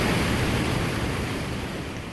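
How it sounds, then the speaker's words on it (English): Hidden Falls on the Temperance River pours as a steady, broadband rushing roar, heard from a bridge above the falls, constant and fairly loud with no voices. "that's where the waterfall is, right there, Hidden Falls"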